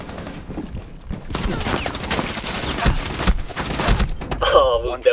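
Rapid SMG gunfire in a Rainbow Six Siege hostage match on the Kafe Dostoyevsky map comes in loud sustained bursts, with players talking over the shots.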